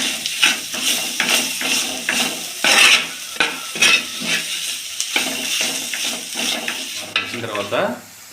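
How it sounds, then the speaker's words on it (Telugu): Ingredients are stirred together in a pan with salt added, the spoon scraping in repeated rhythmic strokes with light clinks against the metal, close and moderately loud, with a brief soft sizzle near the end. "ఇప్పుడు ఐటమ్స్ అన్నీ కలిసిపోయే విధంగా కలుపుకుందాం"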